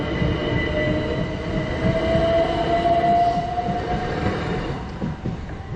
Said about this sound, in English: Oh, I can hear a train.